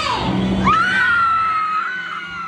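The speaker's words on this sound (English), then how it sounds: "I felt like I carried that scream and that I was just gonna let it out." A woman at a model camp lets out a long, loud, high scream that rises sharply, then holds and slowly fades over a couple of seconds, alone and close.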